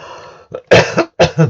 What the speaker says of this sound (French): Ça fait longtemps que j'avais pas toussé